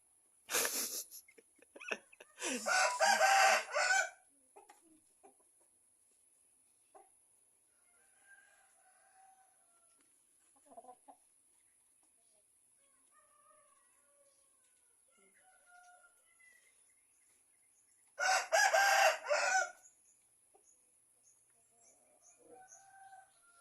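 A Burmese gamecock rooster crows loudly and close by, with one long crow near the start and another later, plus a few faint clucks and rustles in the quiet between them.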